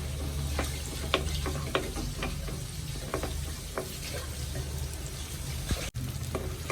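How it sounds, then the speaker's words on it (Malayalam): Onions sauté in a pan with a steady sizzle, and a spatula scrapes and taps through it at intervals, close up and without any voices. "ഉള്ളി നന്നായിട്ട് വഴണ്ടു വരണം"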